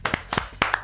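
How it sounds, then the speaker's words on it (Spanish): A short, sharp burst of hand claps in a quick rhythmic pattern, close and loud, like a group clapping in unison. "con un aplauso característico como lo hacemos siempre"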